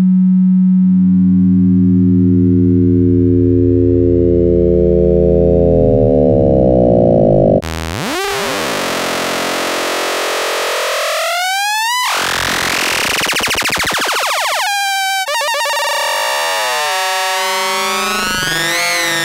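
Through-zero phase modulation synth tone from an LA67 T-ZED oscillator, a sine modulated by another sine: a loud, continuous sweeping electronic drone with shifting harmonics, moving from a low buzzy texture into a harsh, siren-like warbling sweep, with no voices.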